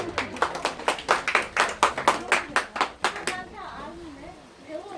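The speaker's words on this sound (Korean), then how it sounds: "여러분의 큰 박수로 초대해 주신 감사하겠습니다" An audience claps in a quick, steady rhythm to welcome a janggu drum performance on stage, with loud, close, evenly spaced claps for about three seconds before they trail off under a faint voice.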